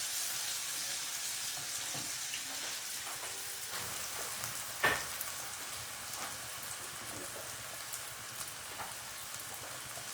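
Chopped medium onion cooks in a pan, producing a steady, gentle sizzle and crackle heard close by, with occasional soft stirring clinks and no talking.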